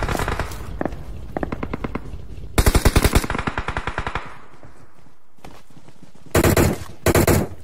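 Gunfire in a battle royale video game: rapid bursts of automatic fire, some loud and close and others quieter, broken by short pauses, with two hard bursts near the end and no talking over it.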